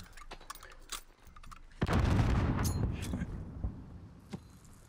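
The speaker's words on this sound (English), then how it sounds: "he's chucking grenades in there too" Grenades exploding in a Call of Duty match: a booming blast swells and rumbles for a couple of seconds amid scattered ticks and pops, moderately loud and fading out.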